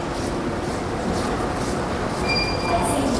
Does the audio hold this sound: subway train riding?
yes